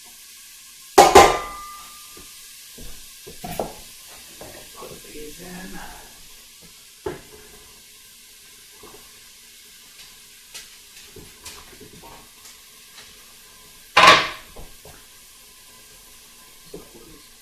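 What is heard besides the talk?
vegetables sizzling in butter and oil in a pan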